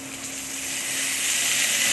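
Potato and papaya sizzle steadily together in hot oil in a pan, a close, continuous frying hiss that builds slightly louder.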